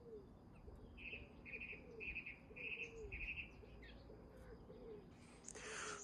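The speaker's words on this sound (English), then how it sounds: "the very noisy song thrush at the top" A song thrush sings from the top of a spruce tree, a series of repeated short phrases at moderate distance, faint against a quiet outdoor background with a low hum.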